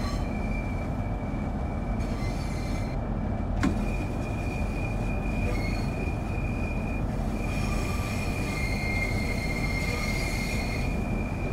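Train Sim World 4 Southeastern High Speed train between St Pancras and Ashford International, loud steady rumble of wheels on rails with sustained high squeal and screech from flanges rounding bends, continuous and close with no talk.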